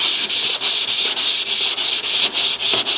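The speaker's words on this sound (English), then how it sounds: "I'm using 360 sandpaper on this because I want it to be primable when I get done." Hand sanding of a rusted car fender with 360-grit sandpaper, close and loud, with rapid back-and-forth strokes in a steady rhythm of about ten rasping passes, alone.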